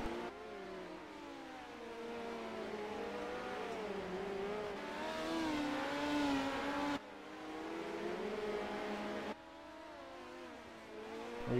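Midget race cars circle the dirt oval at the Chili Bowl, several engines droning and revving together as the pack passes, steady and moderately near with rising and falling pitch.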